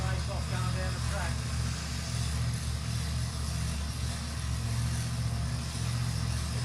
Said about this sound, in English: Got the big long pipes hanging out the heads there too on the Baxter car, all swept upwards, so that makes a nice noise